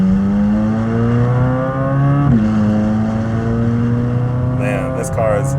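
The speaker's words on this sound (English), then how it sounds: "Those downshifts, that's why I love downshifting in this car all the way down to first gear." A Chevrolet Corvette C8 Z06 engine drones loud and close, its steady revving tone dropping sharply in pitch twice as the car downshifts through the gears.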